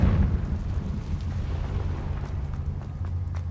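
An explosive Confringo spell cast in Hogwarts Legacy, a deep rumbling boom that bursts at the start and rolls on as a low, heavy roar before tapering slightly.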